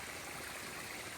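A mountain creek rushes steadily beside a hiking trail on Mt. Moosilauke, a soft, even wash of flowing water with no voices.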